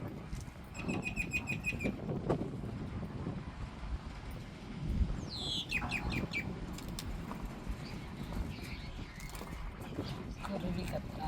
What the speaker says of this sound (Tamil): குருவி கத்துறாங்க.